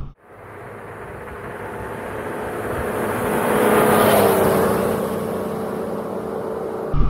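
A Yamaha Tracer 9 motorcycle cruising in third gear at about 30 mph, its steady engine drone blended with rushing wind that swells mid-ride and then eases, with no talk over it.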